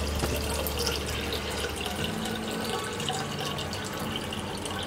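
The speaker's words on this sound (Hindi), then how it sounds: "इसमें हम ये मिलेट से सोक किया हुआ पानी डालेंगे।" Water soaked with millet pours steadily into a clay pot on a gas stove, a continuous loud splashing gush that fills the pot without pause.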